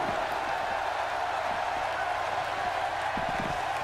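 Steady roar of a sold-out arena crowd in the WWE 2K16 wrestling game, a continuous dense wash of cheering and noise with no clear breaks, constant and fairly loud throughout.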